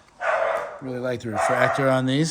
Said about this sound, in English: Sorry about the dogs to finish out here.